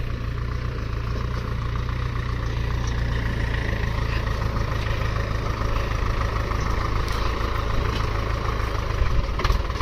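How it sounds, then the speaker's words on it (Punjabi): A tractor engine idles and runs steadily in a farm field, with a loud, continuous low rumble and no talking throughout. "ਪਹੁੰਚ ਗਿਆ ਖੇਤ 'ਚ ਟਰੈਕਟਰ"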